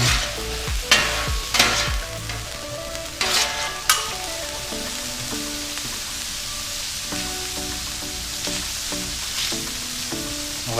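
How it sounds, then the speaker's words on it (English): Onions stirred into browned ground meat in a frying pan, a loud continuous sizzle with spoon scrapes and knocks clustered early, then steady frying alone. "we're going to go ahead and add some onions. Go ahead and mix them in."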